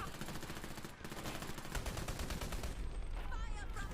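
Rapid gunfire in the game Dirty Bomb rattles in dense, continuous bursts, loud and close, with a brief lull before the shooting resumes.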